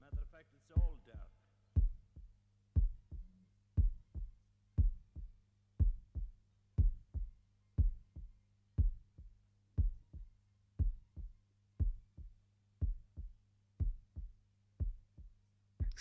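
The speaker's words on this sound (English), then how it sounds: "Extremely slow fade out of the heartbeat." A slow, steady heartbeat from Pink Floyd's Dark Side of the Moon thumps about once per second, deep muffled double beats repeating evenly over a faint low hum, quiet and isolated.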